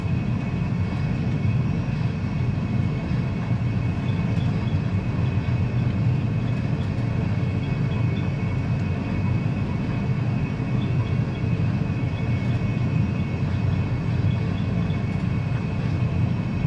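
Loud, steady broadband roar of an Airbus A320 airliner's engines accelerating down the runway on its takeoff roll, a constant engine drone without speech.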